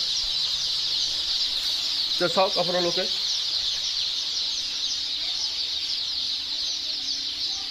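Local chickens clucking in a poultry hatchery stock room, a brief burst of calls amid a steady high hiss of the room, with a voice speaking briefly.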